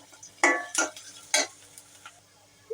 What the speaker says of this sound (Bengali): এখন এগুলোকে ভালো করে ভেজে নিব।